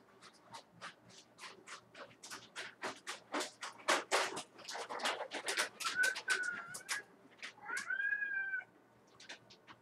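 A cat meows and caterwauls repeatedly at close range, a run of insistent, uneven cries with a few drawn-out wails toward the end, indoors with no voices.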